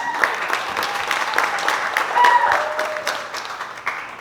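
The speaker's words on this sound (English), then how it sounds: "To Kimmy and Sandy, Yes, clap. Please clap." Wedding guests applaud steadily during a reception toast, the clapping continuous and fairly close throughout, with a voice briefly carrying over it.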